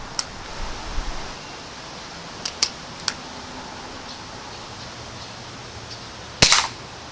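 An Umarex Buck Mark air pistol fires Sig Sauer match pellets outdoors, giving a few sharp snapping cracks spread out over background hiss, with one louder pop near the end.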